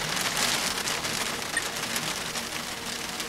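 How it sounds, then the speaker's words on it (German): Rain patters steadily on surfaces in the video game Generation Zero, a dense, even hiss of drops that holds at moderate loudness throughout with no talk over it. "ist das geil mit dem Regen prasseln"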